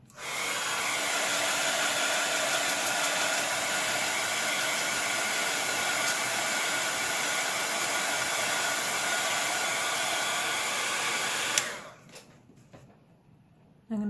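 A hair dryer runs steadily on a high setting, drying freshly painted rocks for fairy houses; a loud, continuous airy roar that cuts off abruptly near the end, leaving faint room sound.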